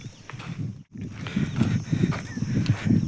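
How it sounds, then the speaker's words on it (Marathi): Steady clopping hoof steps of bullocks walking to a bullock cart, a regular plodding rhythm close by, with a brief pause near the start. "आता बैल घेऊन चाललो आहे बैलगाडीकडे"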